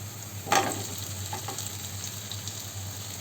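Cooked breadfruit being stirred into a hot frying pan for Kerala mezhukkupuratty, with a sharp sizzle burst at the start followed by steady low frying and a few soft spoon scrapes, close and alone without talk.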